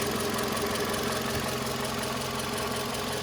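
A 2008 Toyota RAV4 2.4G 4WD with a chain-driven 2.4-litre engine idles steadily and evenly, a constant close mechanical hum with no talk.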